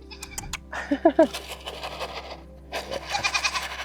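A goat bleats a few times in short wavering cries during a goat yoga session, mixed with quiet voices and light movement nearby.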